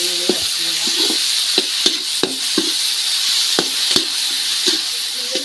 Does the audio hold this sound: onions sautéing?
yes